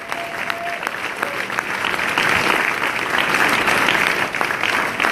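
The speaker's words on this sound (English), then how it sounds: "Can we give them a hand clap?" A church congregation claps for single mothers standing during a Mother's Day service, sustained close applause from a large crowd that swells and holds steady, with faint voices mixed in.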